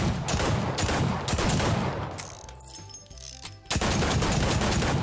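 Automatic gunfire from the Fortnite battle royale game rattles in rapid bursts, loud and close, with a brief quieter lull before a final volley.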